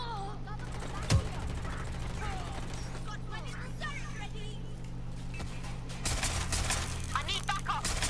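Gunfire in a video game: a single sharp shot is followed by a denser burst of rapid firing, heard at moderate volume with voices talking throughout.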